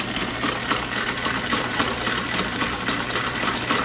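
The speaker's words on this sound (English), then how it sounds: "Alright, round 2, milling on the lathe." An old South Bend lathe set up for milling with a high-speed steel end mill under power feed runs with a steady mechanical drone and faint rhythmic cutting chatter, close and continuous, with no voices.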